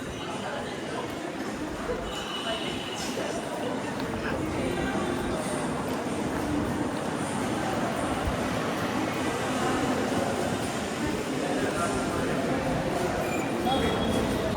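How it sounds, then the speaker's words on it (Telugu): At Kanniyakumari railway station, a train gives off a continuous, rumbling clatter that stays steady and fairly loud throughout, with a faint murmur of voices underneath. "ఇది కన్యాకుమారి లాస్ట్ స్టేషన్ ఇది"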